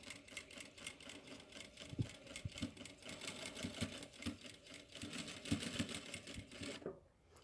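A sewing machine stitches a dish towel in steady, close mechanical bursts of clatter, running almost continuously and then stopping abruptly near the end.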